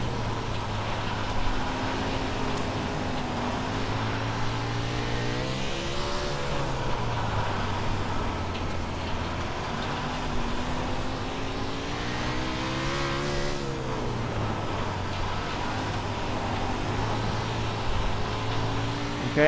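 A USAC 360 sprint car engine in the iRacing sim rises and falls through throttle changes, its revving drone swelling on acceleration and easing off into corners, continuous and prominent across the run.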